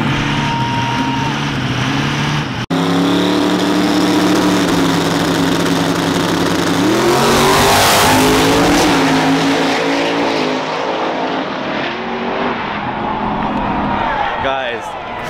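A Gremlin car and a diesel truck racing in a shootout, loud engines roaring and revving close by, rising to a peak midway before fading away, with excited voices over the noise.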